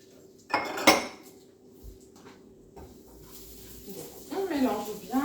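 Brownie batter being stirred in a bowl brings sharp utensil clinks against the dish near the start, then softer scraping and mixing, while a person talks briefly.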